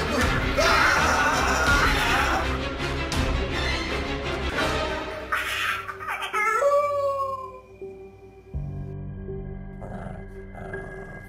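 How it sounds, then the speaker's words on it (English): A dog howls and whimpers with loud, rising and falling drawn-out cries over a rough, noisy background, ending in a fainter stretch with a low steady hum. "Oh, what a cute doggy."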